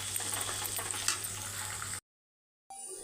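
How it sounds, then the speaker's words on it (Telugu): Curry leaves and chillies frying in a pan for poha upma, giving a soft, steady sizzle close by that cuts out abruptly into silence before faintly resuming. "కరివేపాకు, మిరపకాయలు వేస్తాం. ఇప్పుడు బాగా వేగాలి."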